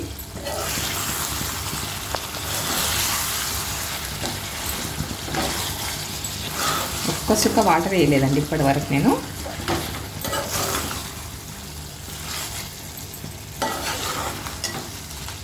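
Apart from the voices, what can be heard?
chicken frying in a pan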